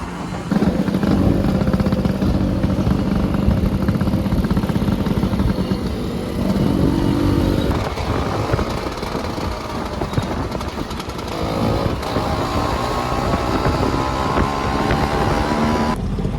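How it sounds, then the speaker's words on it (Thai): A loud vehicle engine roars steadily up close, a continuous droning rumble with slight shifts in pitch. "โอ้ยรถเสียงดังมาก"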